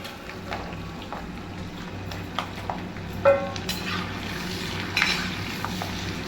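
Garlic cloves for pickle frying in hot oil give a steady, soft sizzle close by, broken by a few light clicks and scrapes of a utensil against the pan.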